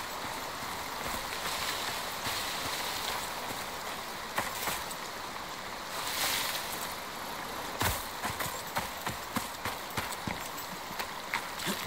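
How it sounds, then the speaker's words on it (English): Character moving through a forest-biome stream in the survival game Icarus, a steady watery rush with rhythmic splashing steps that grow into distinct thuds toward the end, close and fairly loud, no voices. "just jumped in the stream, should have done that"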